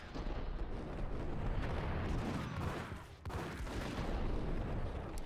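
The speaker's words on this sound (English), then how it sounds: "did he just throw a grenade?" A grenade blast in the game Max Payne, heard as a loud, sustained roaring rumble that dips briefly partway through and then keeps rolling, with no talking.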